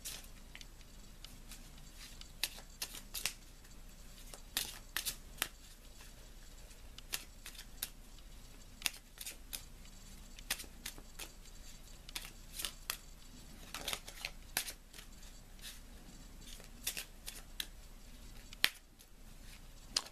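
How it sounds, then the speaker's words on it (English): Lenormand oracle cards shuffled by hand, a quiet, close series of crisp flicks and riffles in irregular bursts over a faint room hush, with no talking. "I'm going to take a moment and I'm going to shuffle the cards"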